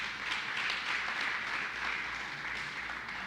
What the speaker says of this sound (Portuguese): Dá um aplauso aí, vai,